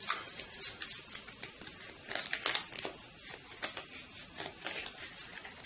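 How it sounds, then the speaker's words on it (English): Arkham Horror board game cards shuffled by hand: a quick run of crisp, papery riffling and flicking, close and fairly quiet, with no voices. "So we'll give these a quick shuffle and draw 1 at random."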